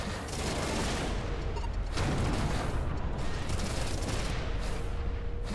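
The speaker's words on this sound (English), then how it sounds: "But they're definitely heavier missiles." Heavy missiles launching from a missile silo in the space shooter Everspace 2: a dense, continuous barrage of loud bursts and mechanical firing noise with several sharper blasts, no speech.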